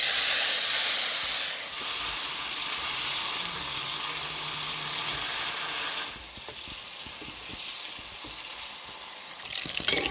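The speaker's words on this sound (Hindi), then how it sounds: "उसके बाद हम इसमें फ्राई कर लेंगे ये मशरूम्स को" Cleaned mushrooms frying in smoking-hot oil, a steady broadband hiss and sizzle that holds close and fairly loud for the whole stretch, easing slightly partway through, with no voices.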